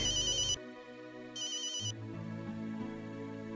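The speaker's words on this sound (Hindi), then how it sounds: "माँ का फोन आया।" A mobile phone ringtone chimes in short repeated electronic bursts, then gives way to a sustained tonal melody, fairly soft and with no talking over it.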